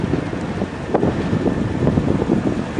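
Steady wind gusts across a desert valley, roaring and buffeting the microphone with a continuous low rumble that rises and falls slightly and goes on without pause.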